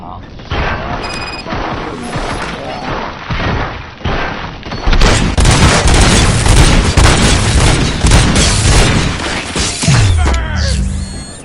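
Dense, loud gunfire and booming impacts from a RoboCop: Rogue City shootout, a rapid barrage of shots and thuds building into a sustained roar, with voices mixed in.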